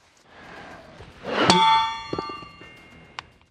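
A heavy sledgehammer blow strikes a 14.5mm KPV machine gun bullet, giving one loud metallic clang that rings on, followed by a few smaller clinks.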